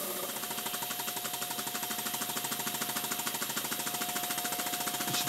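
Small model steam engine running on steam oil in a workshop, a steady rapid mechanical chuffing and knocking that holds an even rhythm throughout, with a constant high singing whistle over it.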